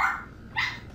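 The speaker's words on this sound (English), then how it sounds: "Damn it, dog!" A dog barks twice, close and fairly loud, sharp yelps a half second apart with no talking over them.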